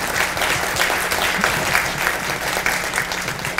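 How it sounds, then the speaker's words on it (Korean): A lecture audience at a university mentoring talk on AI semiconductors breaks into applause, a full, continuous burst of many hands clapping that stays loud and even throughout with no speech over it. "여러분 박수 한번."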